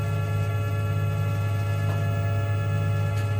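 A Tormach PCNC1100 CNC mill drives its bed and z-axis together, giving off a steady, close electrical motor hum with a strong low drone and faint higher whine, unbroken and alone.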